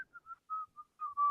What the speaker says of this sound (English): we could just whistle down Main Street